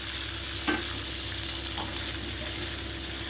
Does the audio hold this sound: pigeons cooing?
no